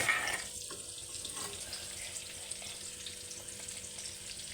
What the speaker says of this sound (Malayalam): ഇനി ഒരു സ്പൂൺ കടുക് അതിനകത്തോട്ട് ഇട്ട് കൊടുക്കുക